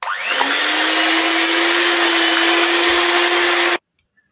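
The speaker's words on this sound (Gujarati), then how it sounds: "હવે મિક્સરમાં પીસી લઈએ" A kitchen mixer grinder blends cooked mango pulp for aam papad, a loud steady motor whir that spins up and runs continuously for nearly four seconds before cutting off abruptly, leaving near silence.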